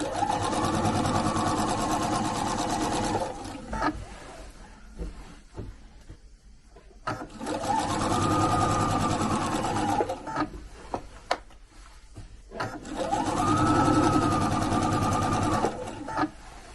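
A sewing machine stitches around a circle on chenille fabric in three steady whirring runs, each separated by pauses with faint handling noise; close and clear, with no talking.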